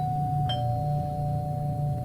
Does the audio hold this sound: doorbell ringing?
yes